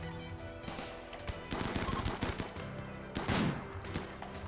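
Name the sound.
gunfire in the video game Rimworld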